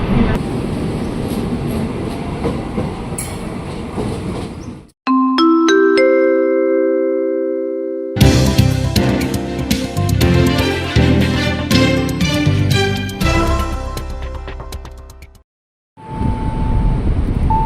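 An INKA-built CLI 225 KRL commuter train at Pasar Minggu station, with loud rumbling train noise, a melodic chime announcement in the middle, and then a dense clattering departure, with voices in the background.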